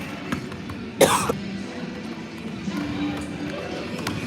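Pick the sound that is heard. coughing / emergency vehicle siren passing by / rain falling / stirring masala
coughing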